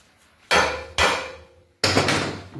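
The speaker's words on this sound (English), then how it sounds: "Right, tap the spindle straight." Three sharp metallic hammer taps on a spindle of a Velocette Twin motorcycle in a workshop, loud and close, each ringing briefly, with the third coming after a longer pause.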